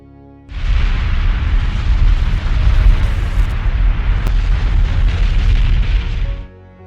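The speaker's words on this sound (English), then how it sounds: "The Etna volcano erupts regularly." Etna volcano erupting in Sicily, a loud continuous roaring rumble with deep booming undertones that starts abruptly, holds for about six seconds without break, and cuts off sharply.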